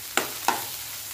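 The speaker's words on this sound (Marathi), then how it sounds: "मिरच्या टाकल्या की थोडंसं आणखीन कांदा भाजून घ्यायचा" Onion and a few dried red chillies frying in a pan for a spiced okra dish, with two sharp scraping stirs over a soft, steady sizzle, close by and without talk.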